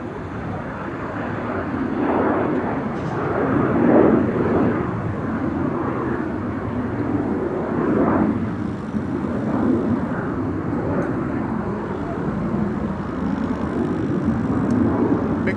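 An Embraer Phenom 300 business jet takes off from runway 22 at Amsterdam Schiphol, producing a loud, continuous engine roar that swells and holds steady across the whole stretch with no voices.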